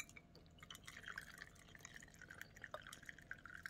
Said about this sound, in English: so I'm going to pour this in here